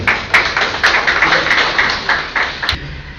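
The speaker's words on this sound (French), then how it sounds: "je vous prie d'applaudir, s'il vous plaît" An audience applauds at a gathering on national unity and opposing war in eastern DR Congo, with steady, moderately loud clapping throughout and a few sharper individual claps standing out.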